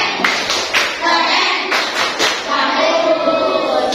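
A group claps a short rhythmic cheer pattern, sharp bursts of hand claps in quick clusters with voices chanting and talking between them in a room.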